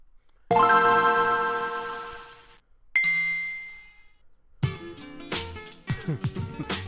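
Bright bell-like dings ring out as a notification sound effect, first a long ringing tone, then a second, then a quicker run of chimes, loud and close.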